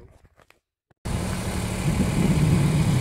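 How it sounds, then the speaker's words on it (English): A tractor is slowly backing up while lowering a wind tower. After a second of near silence with a few faint knocks, the engine starts a steady, fairly loud rumbling drone. "Now I'm going to get in the tractor and slowly back up"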